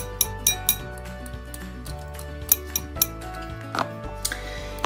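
A utensil stirs hyaluronic acid powder into water in a container, giving repeated sharp clinks and scrapes against the sides at an uneven rhythm, close and clear with no talk.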